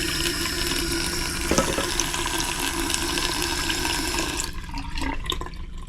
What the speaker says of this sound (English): It actually sounds like it drains better too